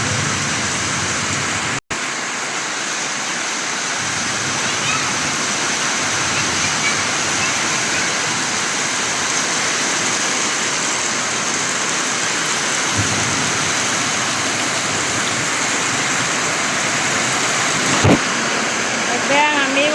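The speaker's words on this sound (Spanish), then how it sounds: "hoy sí nos azotó dura la lluvia" Heavy storm rain roars steadily and loudly for the whole stretch, a dense unbroken wash of water with a brief sharp knock near the start and another near the end.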